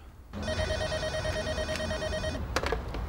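A telephone rings steadily and fairly loud for most of the clip, with a continuous electronic bell tone that cuts off near the end, followed by a few brief clatters as it is picked up.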